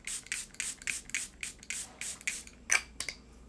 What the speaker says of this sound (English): I'm going to spray this in my face.